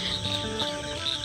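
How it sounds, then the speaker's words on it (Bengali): Frogs croak on a pitch-dark night amid a steady chorus of chirping crickets, a constant rural night-time din of calls layered together without any talking. "ব্যাঙের শব্দ"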